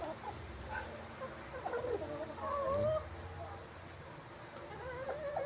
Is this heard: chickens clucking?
yes